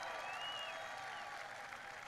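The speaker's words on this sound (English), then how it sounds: "Allow for applause." An audience claps in steady, dense applause that holds evenly throughout, fairly faint and distant, with no voices over it.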